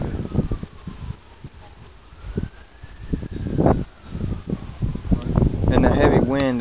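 Heavy wind roars and gusts during a severe wind storm in Cambridge City, Indiana, buffeting the microphone in loud surges under people talking throughout, growing stronger toward the end.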